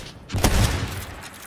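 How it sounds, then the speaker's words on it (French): Gunfire bursts out in a Call of Duty Black Ops 3 multiplayer match, a loud volley of overlapping shots swelling about a third of the way in and echoing on, with no talk over it. "j'entends que ça tire partout"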